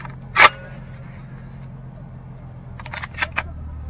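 Beretta 1301 semi-automatic shotgun being reloaded: one sharp metallic clack early, then a quick run of lighter clicks and snaps near the end, close and distinct over a low steady hum.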